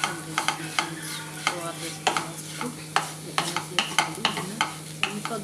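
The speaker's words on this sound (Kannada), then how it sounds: "ಅವಲಕ್ಕಿನ ಹಾಕಿ ಸಣ್ಣ ಮೀಡಿಯಮ್ ಫ್ಲೇಮಲ್ಲಿ ಇಟ್ಕೊಂಡು ಇದನ್ನು ಅವಲಕ್ಕಿನ ಫ್ರೈ ಮಾಡ್ಕೊಬೇಕು" Flattened rice (avalakki) dry-frying in a pan over a medium flame, with a spatula scraping and stirring in steady, repeated strokes over a soft continuous sizzle, close and moderately loud.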